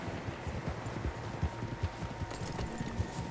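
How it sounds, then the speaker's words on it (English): Several horses' hooves clip-clopping on dirt in Red Dead Redemption 2, a busy overlapping trot with moderately loud, uneven beats and no voices over them. "Horses, quite a few of them."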